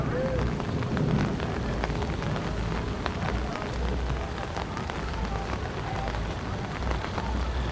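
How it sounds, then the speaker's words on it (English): Steady rain pours down on surfaces during a bad Miami storm, a dense, even hiss with scattered drops and faint distant thunder underneath, no voices. "The rain is here."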